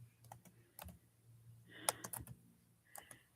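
Keys tapped on a computer keyboard in short irregular clusters, close and quiet, with a few sharper clicks partway through.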